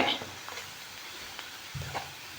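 Prawns and brinjal fry in a pan with a soft, steady sizzle, and light stirring scrapes come through at a few points over about two seconds.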